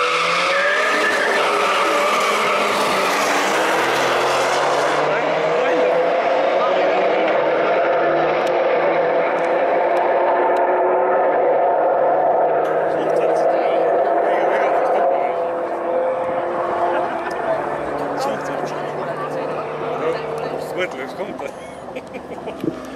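An Alpina B5 launches against a Saab-engined Opel Astra on slick tyres at a drag race. Loud engines roar and rev continuously, tyres squeal, and the engine noise fades slightly as the cars pull away.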